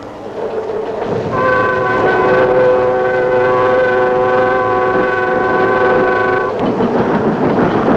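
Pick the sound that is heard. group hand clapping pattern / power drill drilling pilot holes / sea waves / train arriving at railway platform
train arriving at railway platform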